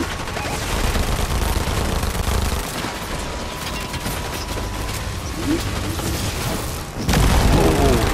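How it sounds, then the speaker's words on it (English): Gunfire in the game Fortnite crackles as dense rapid shots and mechanical clatter, easing midway, then a loud heavy burst returns near the end. "Where am I getting shot at?"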